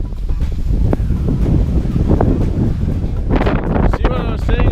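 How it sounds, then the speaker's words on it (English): Strong wind buffets the microphone continuously on the Mediterranean coast at Le Barcarès, a loud, rough roar under brief excited voices. "here in Les Baccarat it's super windy right now"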